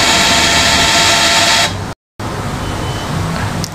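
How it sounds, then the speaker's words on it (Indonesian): Canon G1010 inkjet printer running a print test, its steady mechanical whirr holding for a couple of seconds before breaking off, followed by quieter motor hum and faint rustling. "Printer sudah kita perintahkan, kita tunggu."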